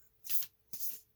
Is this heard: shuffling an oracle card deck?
yes